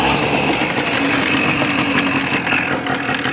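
A 2001 Tomos Sprint A66 50cc two-stroke scooter with an A35 engine runs loud and close, a steady buzzing idle that holds without letup from start to end.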